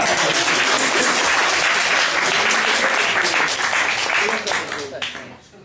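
Dense, loud applause from a live audience at a Polish word contest, sustained for several seconds before thinning out and fading near the end.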